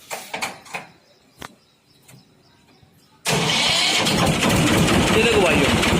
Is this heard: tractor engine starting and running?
yes